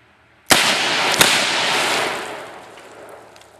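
A single sharp .357 Magnum gunshot (Remington Golden Saber) cracks nearby, quickly followed by a second snap as a liquid-filled jug explodes in a long hissing, splashing burst that fades over a few seconds.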